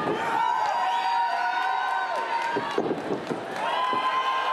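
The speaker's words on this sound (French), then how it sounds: "Et la foule qui réagit bien." A wrestling crowd at a Saint-Ambroise show cheers and shouts steadily throughout, with a brief dip and a few sharp whoops near the middle, loud and close.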